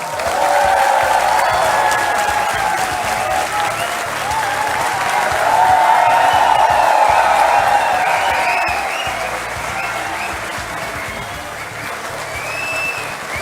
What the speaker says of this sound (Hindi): और ये तालियां इसी तरह बजती रहें